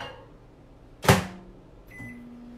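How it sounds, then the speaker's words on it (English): A microwave oven warming chicken stock gives a sharp close thud as its door shuts, followed a moment later by the steady low hum of the oven starting up, quiet and alone. "I'm gonna put that on a low inside the microwave for just like 5-10 seconds real quick."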